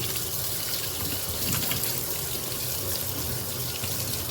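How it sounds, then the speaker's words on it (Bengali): Raw chicken meat rinsed under a running kitchen tap during the rainy season: a steady, continuous gush of water splashing, with no pause and no voices. "মাংসগুলো ভালো করে আগে ধুয়ে দিই।"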